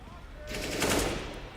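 Rifle fire in CS:GO punches through a wall during the NiP vs FaZe grand final at IEM Oakland 2017, a loud burst of shots lasting about a second under excited commentary.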